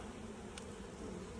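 Honeybees buzzing on a hive frame held up during a beekeeping inspection, a faint, steady low drone continuing throughout without any talking.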